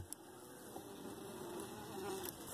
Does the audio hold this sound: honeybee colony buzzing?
yes